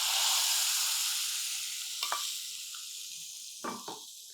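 Hot oil tempering with dried chillies, cashews and a pinch of asafoetida sizzles steadily and close up, with a few sharper crackles and spits as ingredients drop in, no talking.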